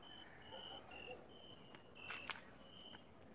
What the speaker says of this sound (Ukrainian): Чуєте, у нас цвіркуни починають цвіркотіти.